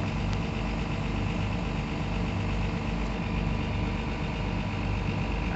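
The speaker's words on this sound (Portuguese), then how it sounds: "Os meninos veio com o caminhão, com o trator aí" A truck and a tractor working a mechanized sugarcane harvest, their engines idling in a steady, continuous low rumble at moderate distance, with no speech over it.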